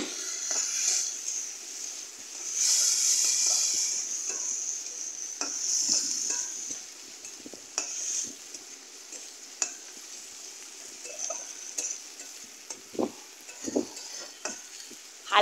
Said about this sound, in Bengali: হালকা করে পেঁয়াজটা ভেজে নেব।